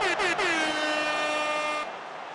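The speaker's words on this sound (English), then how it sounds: "That's what that air horn means." A loud air horn blares as a stream sound effect, a sustained brassy blast with a couple of short stutters at the start, then cutting off into quiet background.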